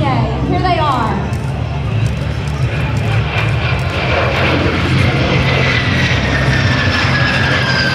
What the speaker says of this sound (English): The airplanes they are flying were the world's first certified personal jets, the MS760